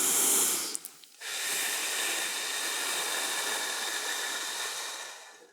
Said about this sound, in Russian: Это глубокий вдох.